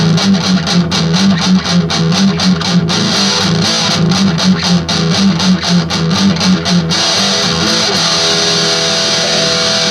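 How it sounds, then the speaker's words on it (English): Heavily distorted electric guitar through a Metal Zone distortion pedal chugs loudly in a tight, palm-muted rhythm, then rings out into a sustained crunchy chord. "This is the metal zone. I like this one because it gives you a really nice metal sound."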